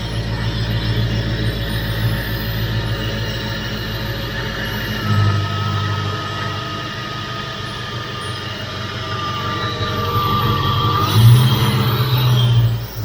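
A cold 4.7 V8 engine running loud and close, with a steady low drone that swells at about five seconds and again near the end as it is revved, no talk.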